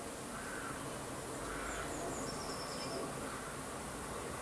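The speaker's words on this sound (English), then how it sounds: "Blue tit call." A blue tit's high, thin call rings out a few times over a steady outdoor garden hiss near a bird table, faint and somewhat distant.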